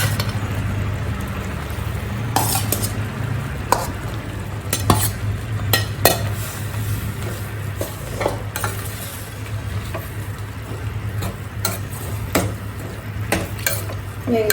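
Boiled potatoes go into a pot and get stirred, with repeated scraping and clanking of a metal spoon against the vessel over a low steady hum and soft bubbling, irregular knocks throughout and no voices.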